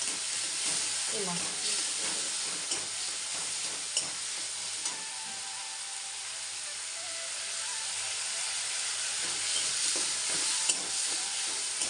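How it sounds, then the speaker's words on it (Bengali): Raw cauliflower and potatoes fry with spices in a pan, giving a steady, close sizzle and hiss with occasional stirring scrapes throughout. "আমি আলু ফুলকপি আমি কাঁচা দিয়ে মশলার সঙ্গে কষিয়ে নেব।"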